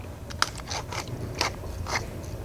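Pepper being ground in a pepper mill in a home kitchen, giving a few short gritty crunching bursts at an uneven pace over a low background hum, close and fairly quiet.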